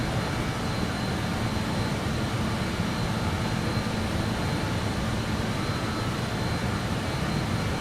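BAE 146 jet engines running in Microsoft Flight Simulator 2020, a dense, unbroken roaring whoosh at steady loudness for several seconds with no voices.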